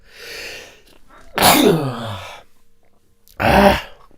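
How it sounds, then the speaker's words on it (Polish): Two loud, close sneezes, the first with a drawn-out voiced build-up and a short breath before it, the second about two seconds later. "Uwaga kicham."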